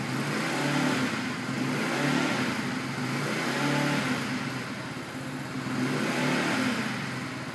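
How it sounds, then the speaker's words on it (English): A 2012 49cc scooter engine revs up and down in repeated swells, a buzzing, whirring rise and fall heard close and alone. "I'm just going to rev it up a few more times for you guys to take a listen."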